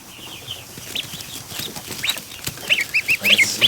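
Ducklings and goslings call nearby in a cluster of high, repeated peeps that grow louder and more rapid toward the end, over faint background noise.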